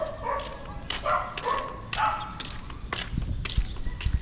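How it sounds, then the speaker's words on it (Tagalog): Several dogs bark repeatedly in the Philippine countryside, a string of close, loud barks with brief gaps, with rustling footsteps underneath. "napakaingay po yung mga aso"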